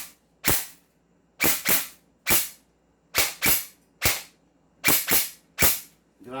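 An M4 airsoft rifle fires about nine sharp, loud single shots at irregular intervals, some in quick pairs, each a crisp snapping crack with near silence between, no talk.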